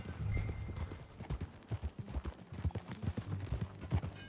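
Horse hooves clip-clop while riding in Red Dead Redemption 2, a brisk continuous rhythmic trot, close and moderately loud, with no talking.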